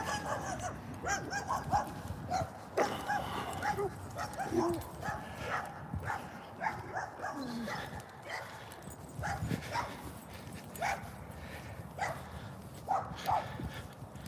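A dog barks repeatedly in short, uneven bursts at a distance, some yips and whimpers mixed in over faint background noise.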